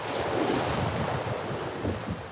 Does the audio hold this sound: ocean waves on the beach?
yes